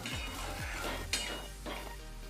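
A spoon stirs spice paste and chili powder in a pan over a low flame while cooking matar paneer, giving soft scraping and clinking strokes with a faint sizzle, up close and steady, with no one talking.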